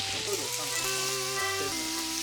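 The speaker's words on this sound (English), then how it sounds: "now I'm going to cook the morels" Morels frying in butter and olive oil in a pan, a steady, dense sizzle and crackle that stays loud and close throughout with no talking.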